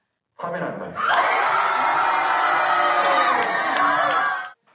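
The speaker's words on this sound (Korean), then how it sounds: "학교에서 TV로 역사의 순간을 지켜본 학생들도 환호성을 질렀습니다." Students at school erupt in loud, sustained cheering and whooping while watching a historic court ruling on TV, a dense crowd roar rising after a brief lead-in and holding steady before cutting off.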